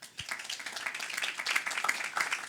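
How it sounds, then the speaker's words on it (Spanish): An audience at the Red Microfinanzas 2023 assembly breaks into applause, a dense, steady patter of many hands clapping that swells slightly toward the end. "Les pido un aplauso"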